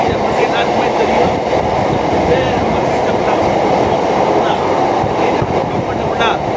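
A Chennai MRTS suburban train runs on the line from St. Thomas Mount toward Chennai Beach via Velachery, heard from inside as a loud, continuous rumble with clattering wheel-on-rail noise.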